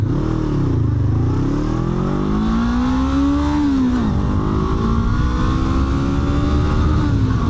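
Honda CB500F 471cc parallel-twin motorcycle accelerating hard on the road, engine note climbing through the revs, dipping briefly at a shift, then pulling up again, loud and close with no talking.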